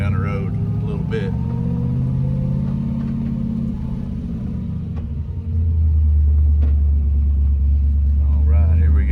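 Restored 1965 Shelby GT350 with its matching-numbers engine driving on the road, a steady low engine rumble that deepens and grows louder partway through as it pulls through the gears, heard from inside under a voice.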